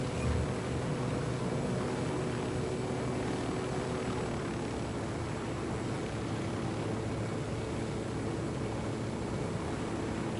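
A helicopter flies in the video game Tom Clancy's Ghost Recon: Wildlands, giving a loud, steady rotor and engine roar that stays constant throughout, with no voices.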